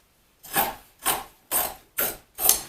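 Excess material is trimmed off a step cornice with five separate cutting or rasping strokes in an even rhythm. Each stroke is close, sharp and brief, with quiet pauses between them and no talking.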